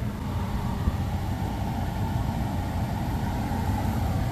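A rebuilt 2011 Ford Explorer sits idling during an AC recharge, its engine giving a steady, continuous low rumble with a broadband hiss at constant loudness and no talk over it.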